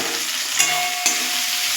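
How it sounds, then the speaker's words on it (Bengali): Chopped tomatoes sizzle loudly in a frying pan on medium heat, with two quick stirring clinks against the pan over a steady hiss. "এটাও আমি কিছুক্ষণ নাড়াচাড়া দেবো।"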